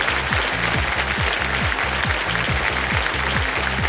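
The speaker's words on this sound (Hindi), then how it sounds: "ताली बजाइए" Studio audience applause on the quiz show Kaun Banega Crorepati, loud dense clapping sustained without a break over a rhythmic musical beat.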